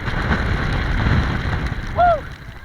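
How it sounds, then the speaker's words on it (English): Strong wind roars and buffets the microphone outdoors in a steady rush, with a brief whooping voice near the end. "It's very windy, so."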